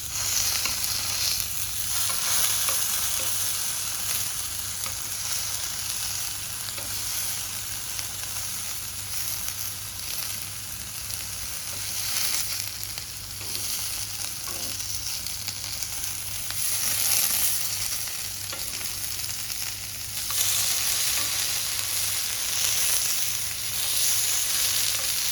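Pieces of food fry in a hot pan until browned on both sides, giving a loud, steady sizzle that runs unbroken throughout with slight swells in intensity and no talking.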